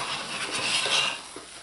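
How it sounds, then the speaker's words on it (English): Lye soap being stirred and scraped in a crockpot, a short run of close scraping and clinking of a utensil against the pot with no talk. "Stir that back in."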